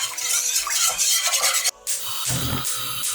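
A spoon stirs mustard sauce in a pan, close scraping and sloshing in repeated strokes with a brief pause partway, light sizzle underneath.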